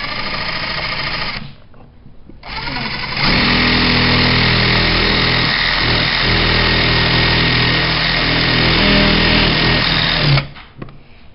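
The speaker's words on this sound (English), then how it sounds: "I'm gonna go ahead and drill this hole" A small electric drill with a small bit whirs steadily at close range, cutting out briefly near the start and then running continuously for several seconds before stopping.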